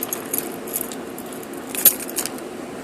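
Nissan Maxima car keys jangle up close in bursts of light metallic clinks, with one sharper rattle near the end, over a steady low background hum.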